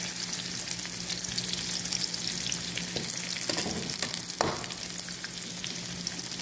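Onion, ginger and garlic sautéing in a pan, a steady close sizzle with occasional stirring scrapes and clinks, no talk.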